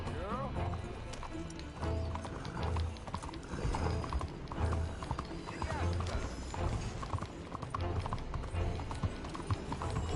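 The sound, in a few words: horse galloping in Red Dead Redemption 2 video game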